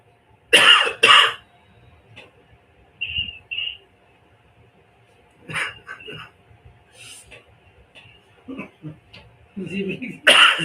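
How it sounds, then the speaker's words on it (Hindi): Several short, harsh coughs in bursts, close by, with brief pauses between them and faint voice sounds scattered throughout. "मेरी खांसी चालू हो गई फिर से"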